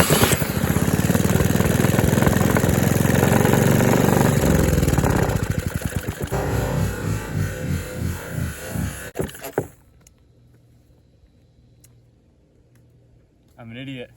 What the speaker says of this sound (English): the engine actually ran surprisingly good. Started up really fast